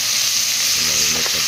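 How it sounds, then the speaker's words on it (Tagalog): Marinated meat for a pineapple stew hits a hot pan and sizzles loudly and steadily, a dense, close hiss of frying with faint stirring underneath. "Lagyan natin yung minarinate natin karne"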